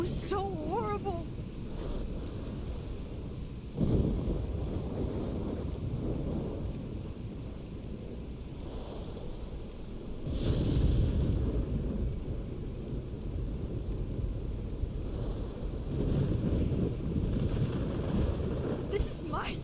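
A Life is Strange thunderstorm rumbles with low thunder rolls, steady rain and gusting wind over a constant roar of waves, swelling in several heavy surges.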